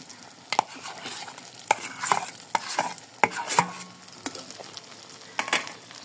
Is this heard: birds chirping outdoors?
no